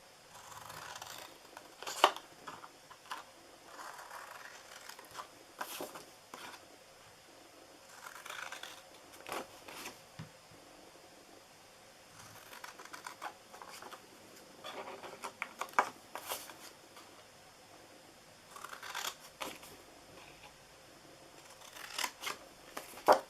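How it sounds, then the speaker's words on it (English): Scissors snip the corners off a sheet of cardstock while making a flower treat basket, a series of faint, close, irregular crisp cuts and paper rustles spread across a quiet stretch. "We're going to cut all 4 corners off."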